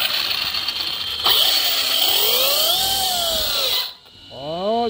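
Arma Kraton RC car with an optional bumper driving, its electric motor whining loudly and rising and falling in pitch as it speeds up and slows down, close by, then a short high sweep after a brief pause.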